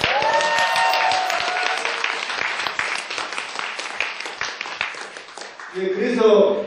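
An audience at a gathering for volunteer ballot-box watchers bursts into sustained applause that fades unevenly, with voices and crowd murmur mixed in and a swell of louder sound at the end.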